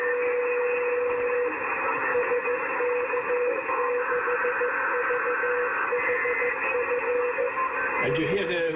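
Spurious signals from a signal generator heard through a SunSDR2 PRO receiver on 144 MHz: a steady, rough buzzing tone with harsh harmonics, loud and continuous, ending in a brief tuning sweep.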